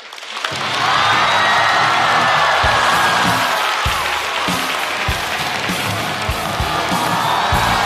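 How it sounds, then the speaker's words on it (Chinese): A stand-up comedy audience claps and cheers to welcome a comedian onto the stage, a loud, sustained wash of applause with whoops and shouts that rises quickly and holds steady throughout. "让我们来掌声欢迎"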